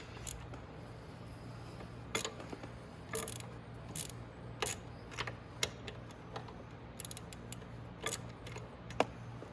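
A 10 mm socket on a ratchet loosens an exhaust bolt on a Maddog scooter, giving irregular clusters of sharp metallic clicks over a steady low hum.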